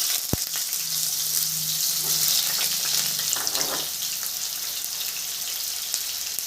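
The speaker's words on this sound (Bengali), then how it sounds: "আগে আমি আলুটা ভেজে নিব।" Potatoes fry in hot oil for a mixed vegetable dish, a loud, continuous hiss and crackle close by, with a brief clunk of utensils near the start.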